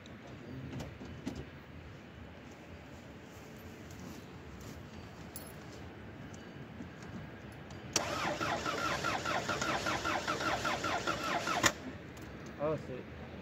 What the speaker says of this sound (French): Là, j'ai mis le contact. Vas-y, démarre.